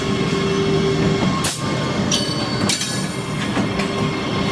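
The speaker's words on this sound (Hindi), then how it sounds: "धीरे धीरे अब वैग 12 जो है हमारा लखनऊ की दिशा में आगे बढ़ रहा है मालगाड़ी के साथ" A goods train hauled by a WAG-12 electric locomotive heading toward Lucknow near Alamnagar station rolls past with a continuous rumble, occasional wheel squeals and sharp clanks, loud and close.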